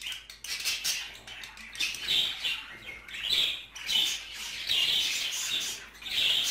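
Budgerigars chirp in breeding cages, with a steady stream of rapid high chirps and twitters, some bursts louder and some softer, close by, with no talk.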